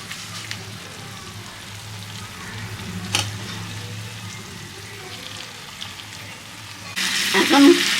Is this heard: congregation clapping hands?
no